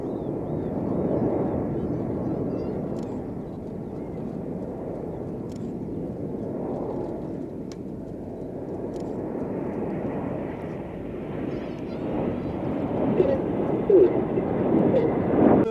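Red Arrows jets roar overhead at the Sywell airshow, a broad sustained engine rumble that drifts and swells, heard under a commentator's continuous talk.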